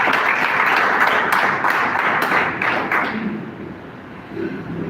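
A church congregation claps for Jesus during a preaching service, loud sustained clapping with sharp individual claps that dies away after about three seconds into quieter room sound.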